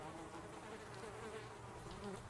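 Flies buzz steadily and close in the zombie survival game Project Zomboid, a dense, continuous insect drone with no talking.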